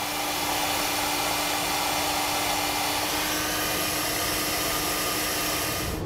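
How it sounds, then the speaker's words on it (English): A heat gun blows steadily while shrinking heat shrink tubing over trailer light wire connections, a constant close whooshing hiss with a faint motor hum and no speech. "with the heat shrinks, you can come back with a heat source and seal up the ends"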